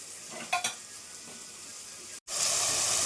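Onion, tomato, turmeric, salt and chilli sizzling in a tempering for pav bhaji, a soft steady sizzle with a couple of stirring knocks early on, then a brief cut and louder, brighter frying hiss.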